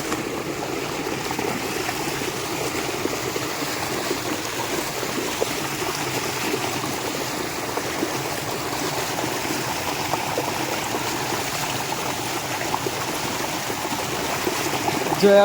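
Stream water flows continuously in a village field setting while hands and feet are washed in it, a steady, loud, close rushing and trickling with no break.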